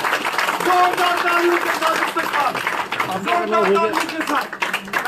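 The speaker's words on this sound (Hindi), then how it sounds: "जोरदार तालियों के साथ" Dense applause from a crowd at the BJP headquarters in Jammu during a party joining event, rolling steadily under a loud voice speaking over it.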